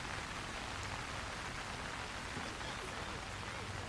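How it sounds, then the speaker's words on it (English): Heavy rain pours steadily during an outdoor rugby match at Viscaya Park in Miramar, a dense, even hiss of drops that fills the whole stretch with no break or change. "very challenging with the rain coming down heavily here at Viscaya Park in Miramar"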